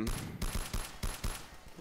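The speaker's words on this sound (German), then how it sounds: "Auf mich wird geschossen." Rapid gunfire in the video game Trouble in Terrorist Town, a quick burst of repeated shots in an uneven rhythm lasting under two seconds, fairly loud and close.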